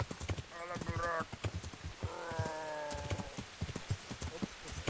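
Horse hooves clip-clop in a steady rhythm in the video game Kingdom Come 2, with two loud whinnies breaking in and someone talking over the hoofbeats.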